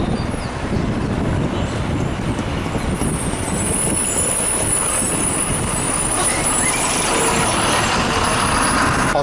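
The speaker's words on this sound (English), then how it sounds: "This is Mysore BMTC bus." A green BMTC city bus in Mysore rumbles loudly from inside, a dense steady engine drone with road noise and rattling throughout, no clear voices.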